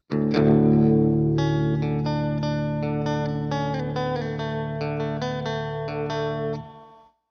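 A sustained electric guitar chord rings through a Boss reverb pedal's short, metallic-sounding reverb, with a few notes added on top before it cuts off.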